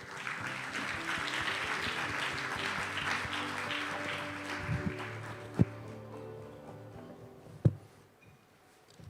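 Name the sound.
audience applause at forum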